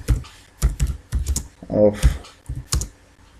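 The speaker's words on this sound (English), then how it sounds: "So just I'll type" Quick bursts of clicks come from a computer keyboard being typed on, arriving in short uneven clusters while someone talks over and between the keystrokes.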